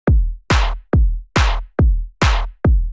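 A steady drum pattern alternating a deep, booming kick with a bright, noisy snare on every other hit, clean and loud with no other sounds.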